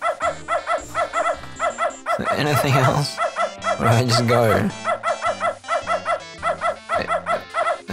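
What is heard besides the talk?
dog barking in Beneath a Steel Sky video game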